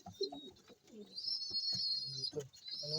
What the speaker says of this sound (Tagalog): Itong mga ibon natin, yan, nagpapasubo.